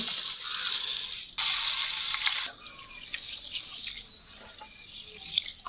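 Rice being washed in water by hand, wet swishing and sloshing in bursts with small drips and clinks of grains against a bowl, close and fairly quiet.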